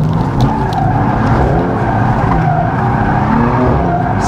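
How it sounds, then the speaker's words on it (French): A BMW M4 GTS drifts with its engine roaring and tires squealing steadily, a loud, continuous, close-up sound with a rough rumble beneath it and no talk. "Ça drift très très bien."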